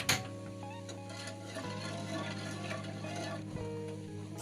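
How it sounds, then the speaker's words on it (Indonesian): A gas stove burner in a home kitchen is lit for a pot of coconut milk, sugar and pandan leaves; a few faint ignition clicks give way to a soft, steady hiss. "Nyalakan api."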